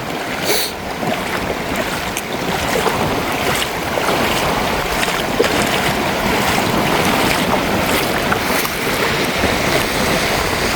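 Floodwater rushes across a road in a continuous loud, broad roar with some wind buffeting the microphone, steady and close for the whole stretch.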